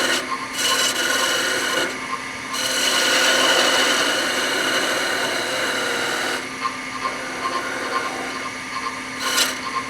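Wood lathe turning a honey dipper as a hand tool cuts the spinning wood, a loud continuous scraping rasp that swells and eases as the tool engages, with the motor hum underneath.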